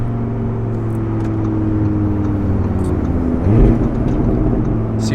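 A tuned Audi RS3 idling and rolling with a low, steady exhaust drone and soft burbling pops, near and fairly loud, with a brief swell in rumble midway.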